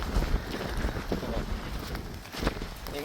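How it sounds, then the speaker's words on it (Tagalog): Strong seaside wind buffets the microphone in a steady low rumbling roar, with gusty surges and faint rustling, loud and close for a few seconds. "Sa tabing dagat, lakas ng hangin po,"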